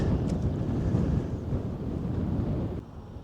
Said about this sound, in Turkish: Abi çok rüzgar var ya. Şu rüzgara bak ya.